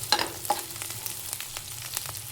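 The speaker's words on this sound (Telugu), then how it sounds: "కొంచెం క్యాప్సికమ్ వేసి ఇది కూడా ఫ్రై చేసుకోవాలి మంచిగా" Onions and capsicum frying in a pan give a soft, close sizzle with repeated light scrapes of a spatula stirring them, fairly quiet and steady over a low hum.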